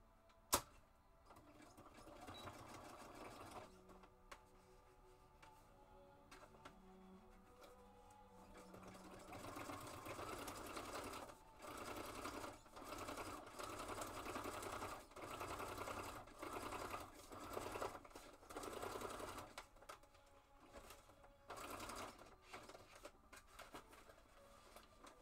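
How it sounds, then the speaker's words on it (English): A sewing machine stitches through tough multimedia paper in bursts of rapid mechanical stitching, rising to a steady, louder whir through the middle and ending in shorter stop-start runs. "Sew it going the other direction."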